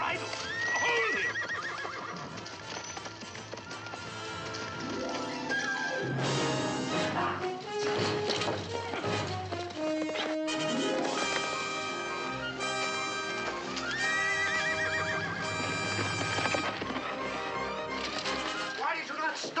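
A horse neighs and whinnies repeatedly while hooves gallop, all mixed under dramatic orchestral music in a Zorro adventure scene, loud and continuous.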